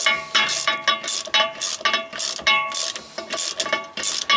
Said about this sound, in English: So now I'm going to snug them all down.